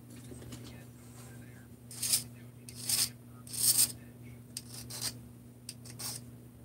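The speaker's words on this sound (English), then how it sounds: "I wonder if we can just do it with a file." A hand file rasps across the edge of a part from a 350 engine's bottom end, cutting a chamfer, in several short, uneven strokes with pauses, heard close over a steady low hum.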